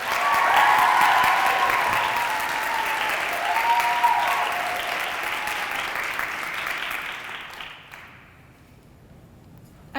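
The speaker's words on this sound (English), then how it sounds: "so with that being said, I introduce to you my dear pal, Mary Claire Carney." Audience applause fills the room right after a senior speaker is introduced at a school event, steady and loud for about seven seconds before fading out to near quiet.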